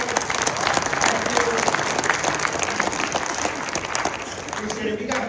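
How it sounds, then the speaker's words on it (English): Sustained applause from an audience at a realtor immersion event, steady and fairly loud throughout with dense clapping, while some voices carry faintly beneath it. "let's give them a round of applause"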